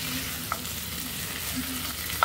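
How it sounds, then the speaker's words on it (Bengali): Masala is stirred into bhuna khichuri in a pot after the stove is turned off, with a low, even residual sizzle and a couple of soft spoon clinks against the pot. "আমি এখানে চুলার জালটাকে অফ করে দিয়ে মশলাটাকে শুধু মিশিয়ে নিচ্ছি ভালো করে।"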